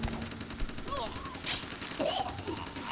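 Rapid gunfire with muzzle flashes in the video game Vampire Bloodlines, a dense volley of sharp shots running over busy game noise and music with brief tonal sweeps.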